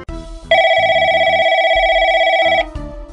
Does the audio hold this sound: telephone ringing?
yes